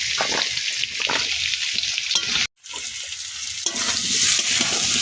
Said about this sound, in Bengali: পেঁয়াজ লাল লাল হয়ে এসছে ভাজা